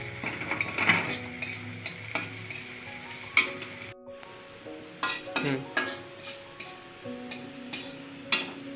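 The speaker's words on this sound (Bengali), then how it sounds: "তেলের মধ্যে প্রথমে আমি একটু অল্প পেঁয়াজ দিয়ে পেঁয়াজটাকে ভালো করে লাল করে ভেজে পেঁয়াজটাকে তুলে নেব।" Onions frying in oil in a pan for chicken pulao give a steady close sizzle, with regular scrapes and clinks of a spoon stirring through it and a brief pause near the middle.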